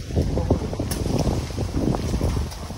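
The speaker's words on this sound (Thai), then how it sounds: "ลมแรงมากเลย" Strong wind gusts roar and buffet the microphone outdoors on a boat trip out on the water, a loud rumbling, fluttering rush that swells and dips throughout with no clear speech over it.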